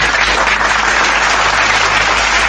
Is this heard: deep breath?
no